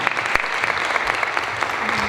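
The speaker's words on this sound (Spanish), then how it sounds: "otro aplauso también para los 3 profesores" An audience at an education talk applauds three teachers, a dense, steady round of clapping from a crowd indoors that continues through the whole moment, with a voice faintly audible beneath it.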